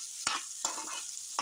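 Jackfruit pieces fry in ghee with a steady bright sizzle, broken by three sharp stirring scrapes of a spoon against the pan, close and moderately loud with no voices.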